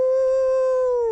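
A human voice imitates a cat howling like a dog, one loud sustained tonal howl lasting just over a second that slowly drops in pitch at the end.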